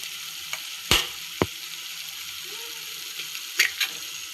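An egg fries in a pan with ginger and garlic for egg fried rice, a soft steady sizzle under a few sharp, close knocks and clicks.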